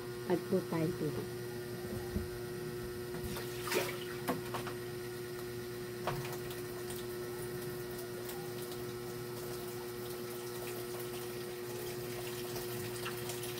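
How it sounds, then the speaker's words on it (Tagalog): Water poured and splashing softly while an aloe vera and honey face mask is mixed, a steady trickle with a few light knocks and a faint voice early on, low and close. "Add po tayo tubig."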